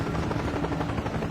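A huge Russian-owned heavy-lift helicopter hovers close and loud, its rotor beating in a steady, dense throb with a continuous engine roar and no voices.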